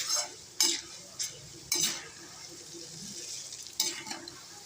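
Chana dal and urad dal frying in oil with red chillies for idli podi, a soft low sizzle under several sharp metal spoon scrapes against the pan, close, with a few separate stirring strokes.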